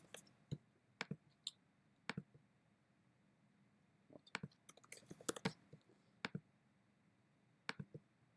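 Someone types on a computer keyboard: quiet, sharp key clicks come singly and in quick bursts with pauses between, close up and alone without talk.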